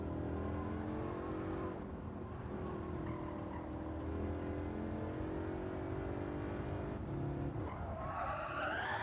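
Race car in Gran Turismo 7 sliding through a corner during online lobby racing, a steady engine drone with skidding tyre noise throughout, rising into a revving surge at the end, loud and close.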